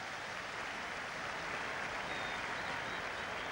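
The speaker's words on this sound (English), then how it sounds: "Crowd applauding the elegance of the move that built up to that fine shot from Alan Hudson and the reaction of Mervyn Day." A football crowd at a 1974 match applauds steadily, a dense, even wash of distant clapping that holds at one level from start to finish with no voices above it.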